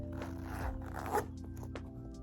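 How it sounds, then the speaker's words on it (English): A zipper on a white purse is pulled in one short, faint scratchy run, quiet and close in an indoor room, with no talking. "So as you could see, it's open, right? So you close the zipper and it's open."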